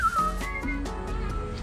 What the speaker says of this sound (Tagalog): Ay, hanapin natin yung sumisipol.